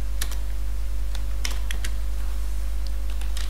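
Computer keyboard typing, with clustered clicky keystrokes in short irregular bursts over a steady low electrical hum, close and moderately loud.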